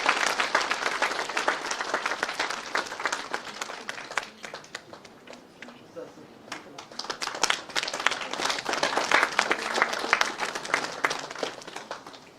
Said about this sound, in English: Please join me in welcoming Professor Ghosh with a huge round of applause